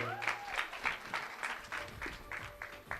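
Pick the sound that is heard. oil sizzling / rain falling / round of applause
round of applause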